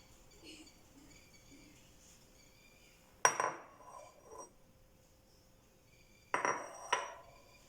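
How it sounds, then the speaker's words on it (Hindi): A spoon clinks and scrapes against a bowl while dry milk powder is mixed into tahini, two short bursts of close metallic clatter separated by quiet stretches. "इसमें अब हम ये ड्राई मिल्क डाल देंगे, नीडो, और इसे मिक्स करेंगे अच्छी तरह से।"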